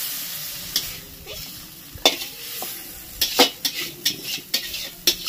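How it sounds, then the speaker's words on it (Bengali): Prawns sizzle in a wok while a utensil stirs and scrapes them, producing a steady frying hiss punctuated by rhythmic metallic clinks toward the end. "তো এটাকে ভালো করে একটু ভেজে নিই। চিংড়ি মাছটা দেখো পুরো ভেজে নিয়েছি, এবার এটাকে তুলে নেবো।"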